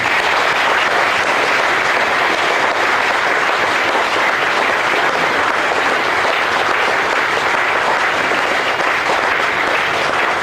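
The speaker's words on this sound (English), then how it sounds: "I think a round of applause for that" Steady, sustained applause from a club audience at a retirement celebration for Dave and Meg, dense and even throughout with no voices standing out.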